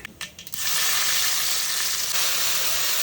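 Mustard seeds land in hot oil for tempering a homestyle cassava curry; after a few brief clatters the oil bursts into a loud, dense, steady sputtering hiss.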